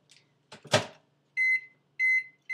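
Microwave oven heating a bowl of chocolate chips, peanut butter and butter, with a door clunk followed by two loud, clear beep-beep signals near the end.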